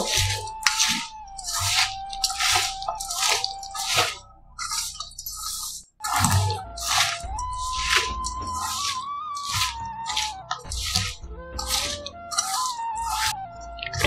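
Dry fruit ladoo mixture being stirred and pressed by hand or spoon, making a steady series of soft squishing, crunchy strokes over faint background music.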